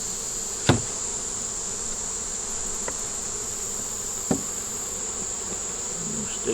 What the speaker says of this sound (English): And it's got bees on it.